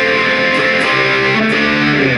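A distorted electric guitar plays a verse riff: sustained, overdriven chugging notes with a steady driving rhythm, loud and close, with no voices.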